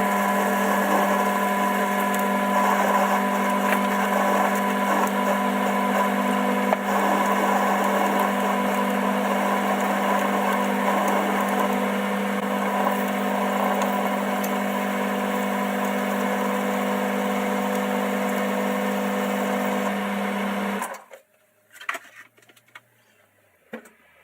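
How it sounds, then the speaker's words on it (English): A lathe machining a piece of aluminium gives a steady, loud mechanical whir with a constant tonal hum for about twenty seconds, then spins down to near silence with a couple of faint clunks. "machine this down on the outside to fit the tube"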